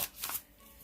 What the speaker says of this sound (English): I'm trying to shuffle these on camera here.